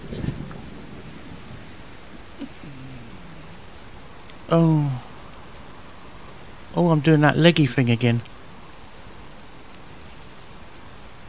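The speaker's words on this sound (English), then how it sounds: "Okay, you can stop raining now." Steady rain hiss in the survival video game Subsistence runs throughout at moderate level, with someone talking briefly over it in a few short bursts.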